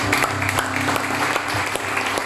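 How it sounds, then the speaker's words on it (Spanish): A church audience applauds after a sermon, dense close clapping with sharp individual claps standing out, steady and unbroken throughout. "Dale un fuerte aplauso."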